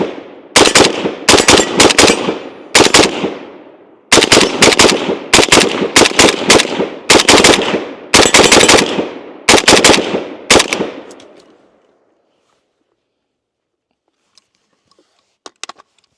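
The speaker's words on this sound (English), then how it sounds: "let's go ahead and take our final shots with the M72" A Zastava M72 RPK rifle fires its final shots outdoors in loud, rapid bursts of several rounds each, with short pauses between them, then falls silent apart from a few faint distant clicks.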